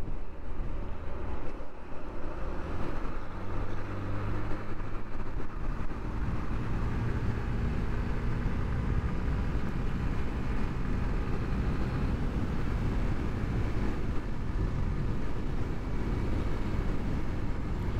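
Motorbike overtaking another vehicle on a highway near Mollahat upazila, Bagerhat, with steady loud engine and road rumble plus heavy wind buffeting throughout, no talk.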